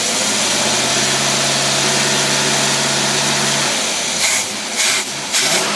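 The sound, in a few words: Dodge engine with Rochester Quadrajet carburetor running up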